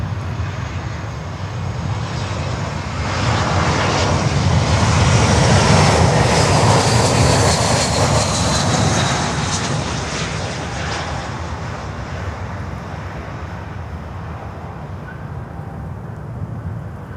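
A Volaris Airbus A321ceo jet at Miami airport roars steadily, its broadband engine rumble swelling to a loud peak midway and then easing into a sustained, slowly fading drone.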